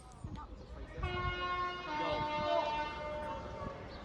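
A cross-country passenger train pulls into a platform at Stafford station, with a sustained multi-tone horn or engine drone rising after a second and holding steady, moderately distant, over background station noise.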